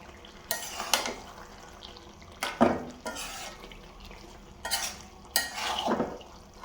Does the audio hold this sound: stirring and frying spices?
yes